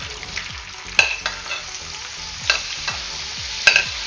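Potatoes deep frying in hot oil over a medium-low flame for a Spanish omelette, with a steady bubbling sizzle broken by a few sharp clinks of a utensil against the pan, close and free of voices.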